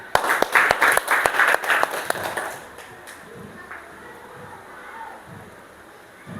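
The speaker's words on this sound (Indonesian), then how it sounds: "Tepuk tangan" Classroom pupils clap together in a quick, rhythmic burst of sharp, distinct hand claps for about three seconds, then fall off into quiet room noise with faint murmuring.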